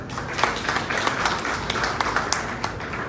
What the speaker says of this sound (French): Ces jolies et charmantes dames que je demande d'applaudir.